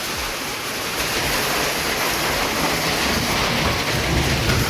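Water falling in a village during heavy rain, a dense steady hiss of downpour that stays loud and continuous throughout, with no voices.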